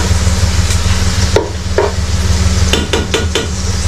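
Garlic frying in a pan, a loud steady sizzle close by, broken by several sharp clacks of a utensil scraping and tapping the pan.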